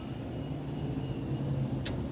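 Steady traffic rumble heard from inside a moving car, a continuous low engine and road drone with a brief high hiss near the end.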